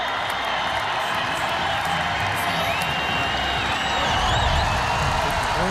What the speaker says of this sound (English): Orange faithful are getting excited. Great crowd on both sides.